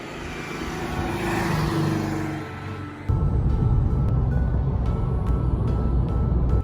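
A car driving along, its engine and road rumble steady, then the cabin noise jumps louder and rougher halfway through, with faint clicks over a continuous low roar.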